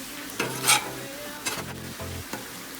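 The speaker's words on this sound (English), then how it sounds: "especially the onions, which are sauteing nicely. And go ahead and flip those." Onions and vegetables sauté on a Blackstone griddle with a soft sizzle. A spatula clatters and scrapes across the hot steel several times in irregular bursts, close by.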